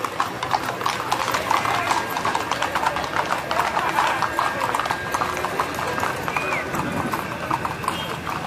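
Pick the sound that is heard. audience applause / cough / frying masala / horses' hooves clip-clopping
horses' hooves clip-clopping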